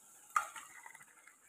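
Beef tipped into a pot of well-fried spice paste, a sudden splashy sizzle that fades into softer frying and stirring, close and alone with no talk.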